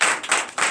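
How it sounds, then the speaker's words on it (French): A church congregation claps in a brief burst during a Sunday service in Comè, Benin, with three quick swells of hand-clapping close by and no talk over it. "je vous demande d'applaudir très fort"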